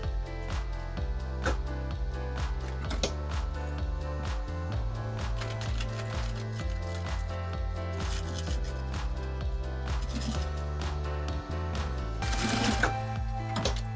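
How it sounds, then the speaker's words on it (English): A sewing machine stitches back and forth on a mini tote bag, running in steady rhythmic bursts with brief pauses and changes of pace throughout, close and loud with no voices. "you can just go in here and just, you know, stitch back and forth a couple of times"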